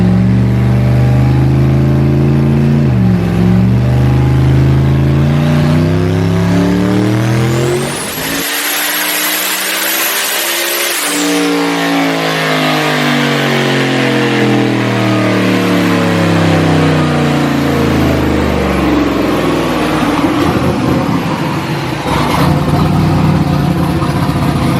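Turbocharged methanol-fueled car engine on a dyno pull at 20 psi boost, loud and close, revving up through a long climbing whine, dropping briefly, then winding up again with strong harmonic roar.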